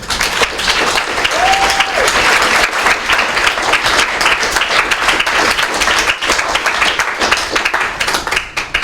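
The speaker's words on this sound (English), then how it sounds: "if everyone can give a huge round of applause for Cage" A large audience at a public talk breaks into sustained, loud applause, dense clapping holding steady from start to finish with no voices on top.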